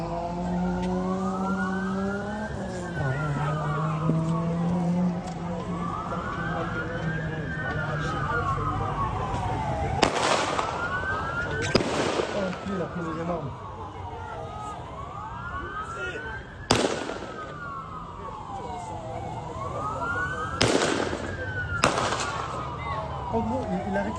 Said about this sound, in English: shots appear to be fired back by police officers at the scene